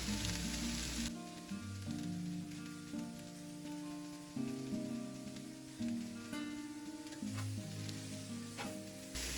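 Smothered cabbage sizzles steadily in a pan over medium-high heat, a soft, even crackle running beneath a continuous melodic music bed, with no talking.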